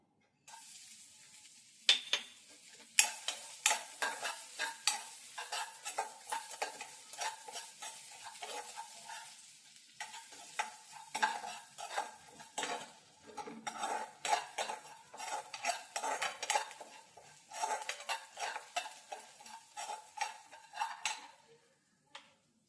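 Crushed garlic cloves sizzling in hot oil with mustard and cumin seeds, a steady frying hiss broken by frequent close scrapes and clinks of a spoon stirring against the pan, with no talking.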